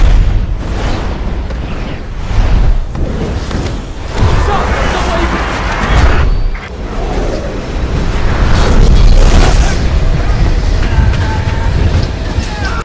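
Airbending fight effects from The Last Airbender film on a warship: loud, continuous booming gusts and rushing blasts that swell and surge, with voices mixed into the dense roar.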